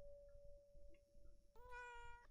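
A cat in the horror game Layers of Fear: Inheritance lets out a single drawn-out, wavering meow, clear and close after a quiet stretch with a steady faint tone and soft ambient sounds.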